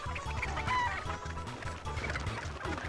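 Chickens cluck in a rapid, rhythmic run of short calls from the video game Breath of Fire 3, steady and fairly loud throughout, set against game music with no talking.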